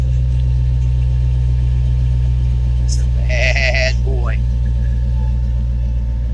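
A low, steady engine rumble with throaty exhaust from a 1958 Chevy 3100 pickup truck idles throughout, while someone talks briefly over it and a faint whine rises near the middle.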